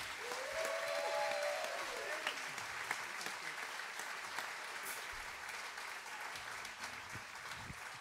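An audience in a church fills the room with steady, moderately distant applause that continues throughout with a soft tone sliding briefly near the start, holding dense clapping until it gradually thins near the end.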